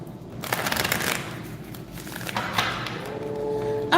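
An oracle card deck is shuffled in quick riffling bursts of crisp card flutter, close and fairly loud, with no talking.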